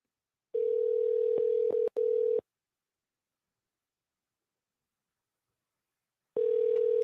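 A steady telephone tone sounds for about two seconds with brief breaks, then stops into silence before the same tone returns near the end while a caller is being phoned back.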